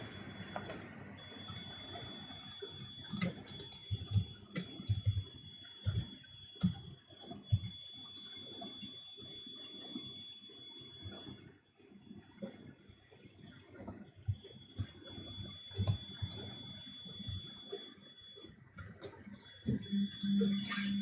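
Steady, rapid clicking of computer keyboard keys as a note is typed, close and fairly quiet, in irregular bursts with brief pauses against a faint constant hum.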